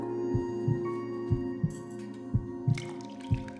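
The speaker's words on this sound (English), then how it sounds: "All he could hear was his own pounding heartbeat." A steady, thumping heartbeat in paired beats, regular and fairly slow, over a constant low hum.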